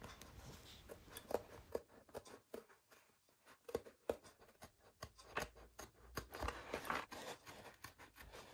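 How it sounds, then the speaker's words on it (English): Swiss Army knife scissors snipping out holes in a copper gasket for a Kawasaki Z1 engine, heard as a series of sharp, close clicks and cuts in irregular rhythm, with quieter stretches in between. "These will now be cut out using my Swiss Army knife scissors."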